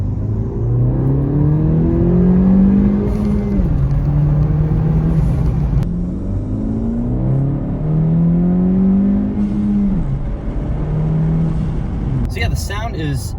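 A 2020 Honda Civic Si with a PRL Cobra intake and turbo at full throttle, repeated rising engine pulls through the gears, loud and close, with brief shift breaks.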